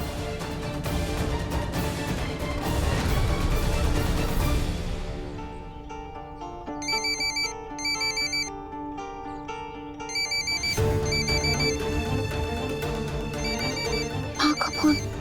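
A phone rings unanswered in a Hindi TV drama scene, a repeating electronic ringtone pattern cutting in over musical background, pausing and resuming in bursts.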